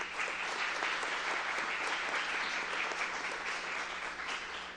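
An audience at the opening of an STI/AIDS prevention week applauds a woman named Raíssa, a few seconds of dense clapping from a crowd, fairly distant and even.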